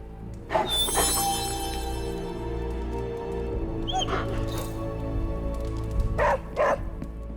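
A puppy barks in the Marvel's Midnight Suns video game: a few short, sharp yips and barks, spaced apart, over a steady low background hum with no talk.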